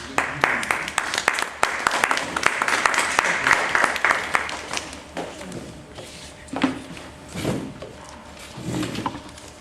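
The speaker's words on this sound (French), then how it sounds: "Sous les acclamations du public." Audience applause at an opening-speech ceremony starts dense and loud, then thins into scattered claps as murmurs and shuffling take over near the end.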